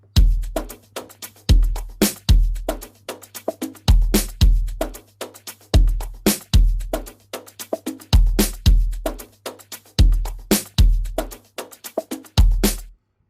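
An Amapiano beat puts a crisp snare over a percussion loop and deep kick drums, in a steady syncopated groove of booming low hits and bright clicks, loud and close with no voices.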